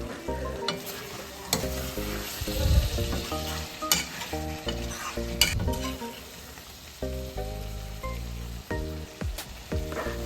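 Chicken fry cooking in a pan as its water boils off into the oil, bubbling sizzle with frequent close clatter and scraping from stirring, no voices.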